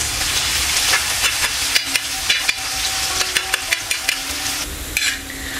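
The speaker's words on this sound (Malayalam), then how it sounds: "നമുക്ക് തേങ്ങാക്കൊത്ത് ഇട്ട് കൊടുക്കാം," Coconut pieces fry in hot oil with a loud, continuous sizzle, broken by frequent sharp clicks and taps of stirring near the pan.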